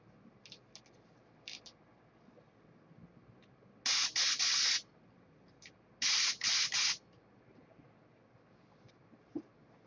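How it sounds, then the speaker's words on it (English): A large DeVilbiss paint spray gun releases several bursts of hissing spray, two long pulses and a few short test spurts, loud and close against a quiet workshop background. "Bernie Trent sent me a DeVelvis paint gun, but it's pretty big, pretty good size"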